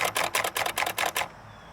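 An 1898 Smith Premier 2 typewriter clacks out about eight quick, evenly spaced keystrokes at close range, then falls silent.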